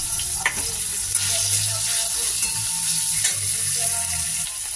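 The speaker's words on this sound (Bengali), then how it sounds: "এবার এই চিকেনটাকে তেলে দিয়ে দেবো। চিকেনটা একটু ভাজবো লাল লাল করে" Chopped chicken fries in hot oil, a steady loud sizzle and crackle with occasional stirring scrapes throughout, close up and without talking.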